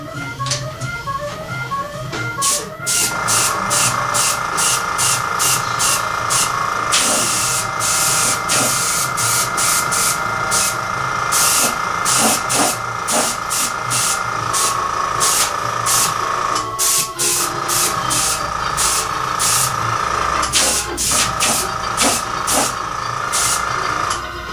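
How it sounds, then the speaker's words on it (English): A spray gun lays a white coat of paint on an airplane, hissing steadily and close throughout, with a compressor-like drone underneath and repeated short pulses as the trigger works. "Okay, we're going to do our white coat now."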